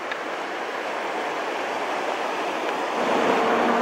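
Steady, dense rush of a rocky river in Norway, water tumbling over many boulders, loud and continuous with no voices, swelling slightly louder toward the end.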